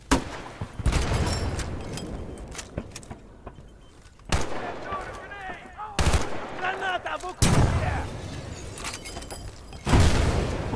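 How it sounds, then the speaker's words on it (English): Gunfire and grenade blasts in the video game Battlefield Bad Company 2 come as sharp cracks, rattling bursts and several heavy booms spread through the clip, with quiet voices in between. "Oh, they're throwing grenades at us."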